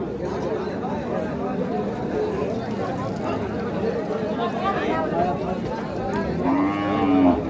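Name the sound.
cattle mooing at a cow market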